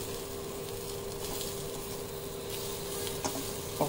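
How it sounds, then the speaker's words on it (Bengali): Cashews, peanuts and bitter gourd stir-fry in a pan with a steady, close oil sizzle and faint scraping from stirring, plus a couple of light clinks near the end. No one talks over it. "এগুলো সব খুব ভালো করে নাড়াচাড়া করে নেব।"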